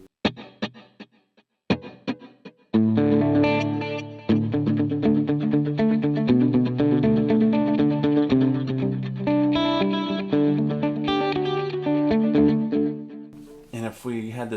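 An electric guitar through a Line 6 POD Go modulation effect plays sustained chords and picked notes, starting with a few sparse plucks before settling into a steady, shimmering passage.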